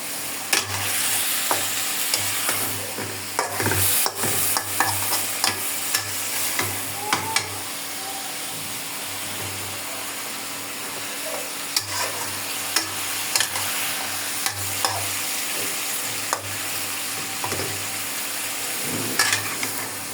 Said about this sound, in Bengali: ভালো করে আমি কষাই নিব তরকারিগুলারে